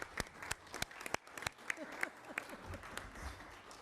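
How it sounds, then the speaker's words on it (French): Scattered clapping from a small audience at a municipal council meeting, sparse, distinct claps that thin out into murmuring room noise. "oui, on peut les applaudir, effectivement."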